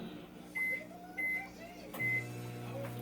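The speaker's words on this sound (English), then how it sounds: "so in the microwave it goes" A microwave oven hums steadily with door and button beeps at the start, then the low drone shifts as it begins running.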